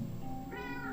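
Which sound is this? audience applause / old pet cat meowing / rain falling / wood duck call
old pet cat meowing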